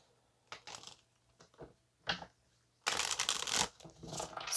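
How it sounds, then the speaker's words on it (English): Tarot cards being shuffled by hand, a few soft isolated riffles and taps followed by a longer, louder burst of rapid shuffling, close up in a quiet room. "Let's go ahead and shuffle here and see what comes out."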